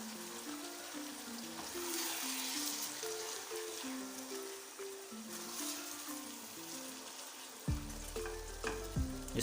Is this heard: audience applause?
no